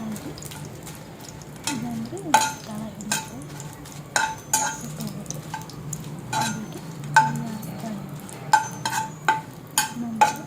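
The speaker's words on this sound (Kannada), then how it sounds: "ಸ್ವಲ್ಪ ಕೈ ಬ್ಯಾಡಗಿ ಮೆಣಸು ಬ್ಯಾಡಗಿ ಮೆಣಸು ಹಾಕ್ಕೊಂಡು ಸ್ವಲ್ಪ ಫ್ರೈ ಮಾಡ್ತೀನಿ" Byadagi chillies frying in coconut oil in a pan for a Mangalore-style vegetable sambar, a soft steady sizzle broken by sharp repeated scraping and stirring clicks at close range.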